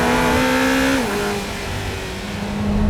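A loud, close Lamborghini Temerario V8 supercar engine drones at full throttle, its pitch dipping once as a gear shifts, then holding steady and strong.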